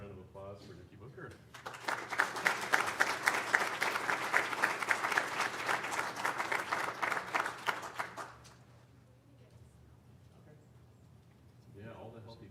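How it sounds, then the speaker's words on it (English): Audience at a county commissioners' business meeting applauds an honoree, steady clapping that builds and holds for about seven seconds before stopping, with a voice speaking briefly afterward. "How about another round of applause for Nikki Booker?"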